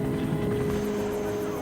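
A helicopter flying in to airlift fuel, food and medicine after a major earthquake, a steady low rotor drone and hum holding constant throughout, with a faint voice underneath.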